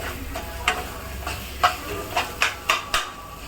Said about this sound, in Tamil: இப்போ உப்பு சேர்த்து வதக்கிறேன்